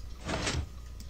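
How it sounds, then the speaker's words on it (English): A short mechanical sliding door opening in a Minecraft map, a single brief whoosh-like rumble lasting under a second, fairly close and alone. "that door opened as we repaired the generators"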